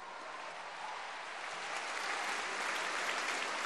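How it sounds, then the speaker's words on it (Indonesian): A studio audience at an Indonesian anti-corruption talk show breaks into sustained applause, a steady wash of clapping that swells slightly toward the end, with no talk over it. "Saya pikir mereka tepuk tangan karena omongan saya keren."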